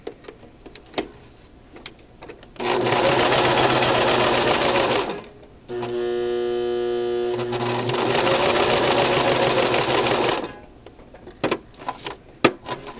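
A Brother LX3014 sewing machine stitching through layers of muslin for a face mask, loud close whirring runs of several seconds separated by a short pause, with quiet handling clicks before and after.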